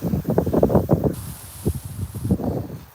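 Gusty wind buffets the microphone beside a river during steelhead fishing, with rough low rumbling bursts that come in pulses, ease off, then pick up again, over a faint steady hiss.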